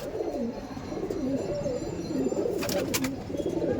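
A female Chocolate Dom pigeon cooing close by, repeated soft rolling coos in a steady rhythm, with a few brief sharp clicks near the end.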